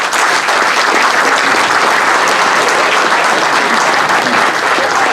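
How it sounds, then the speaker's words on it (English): Banquet crowd at a baseball hot stove dinner in San Jose applauds scouts in attendance, loud, sustained clapping from many people filling the room with no break. "I hope that everyone here can give them a round of applause for all the scouts that are here in"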